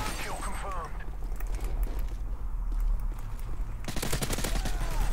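Gunfire in Call of Duty Modern Warfare 3 multiplayer, with bursts of automatic weapon fire and mechanical clatter under steady in-game noise, with a player talking over it.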